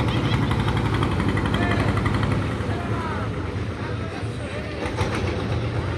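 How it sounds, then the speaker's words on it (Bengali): A trawler boat used as a river ferry runs its engine with a loud, steady diesel chug and rattle from start to finish, close by, with voices faintly audible in the background. "এই ট্রলার নৌকার মাধ্যমেই এপার ওপার যাতায়াত করে।"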